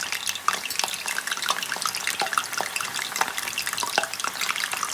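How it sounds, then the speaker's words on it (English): Plantains frying in hot oil, a dense continuous sizzle broken by frequent sharp pops and crackles scattered throughout, close and moderately loud with no speech. "And now we're going to fry. Ooh, it's popping. It's popping. Popping up in here."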